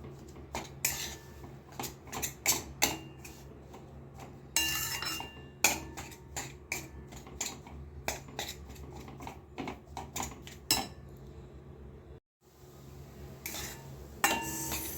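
Ragi flour dry-roasting in a pan over low flame, stirred with a utensil that scrapes and clinks against the metal in steady, frequent strokes, close and fairly loud with a low background hum.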